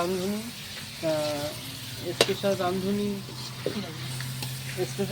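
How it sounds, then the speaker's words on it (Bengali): Chicken meat is being sautéed for kosha in a pan, sizzling and frying steadily while a spoon scrapes and stirs, with speech running over the cooking. "দেখুন মাংসটা কষছে, অসাধারণভাবে কষছে"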